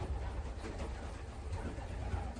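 A racing pigeon coos softly while being handled, low throaty murmurs rolling along continuously, close by and without talk.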